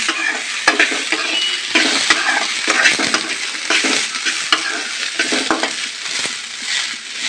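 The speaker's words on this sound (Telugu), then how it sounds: "ఇది వేగాలి మంచిగా." Sweetcorn kernels roast and fry in a pan with a steady close sizzle, broken by repeated scraping and clinking stirs of a spoon against the pan.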